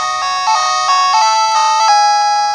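Chiptune melody from Taito's Sky Destroyer, an arcade shooter ported to a Game Box Plus / Retro FC portable handheld, playing bright square-wave notes in a steady stepping tune, fairly loud and alone.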